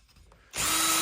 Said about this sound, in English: so I was going to take my drill and a bit,